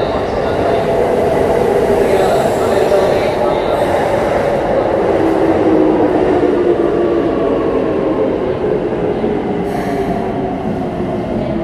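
A Keikyu Airport Express train bound for Zushi-Hayama, eight cars long, pulls into Yokohama station with a steady loud rumble of wheels and cars running throughout, and faint high squeals near the end.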